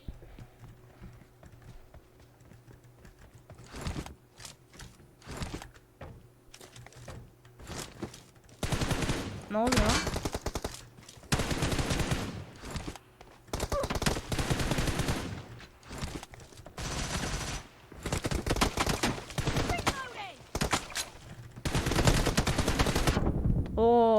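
Bursts of rapid gunfire ring out in a video game shootout, loud clustered volleys separated by short gaps, some single shots, building to near-continuous firing toward the end.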